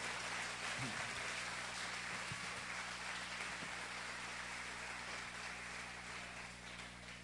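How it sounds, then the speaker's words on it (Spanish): A church congregation applauds during a bilingual Spanish-Portuguese Easter service, a steady wash of many hands clapping that fills the hall at an even level throughout, with a low electrical hum underneath. "Dale un aplauso, Dê um aplauso al Señor."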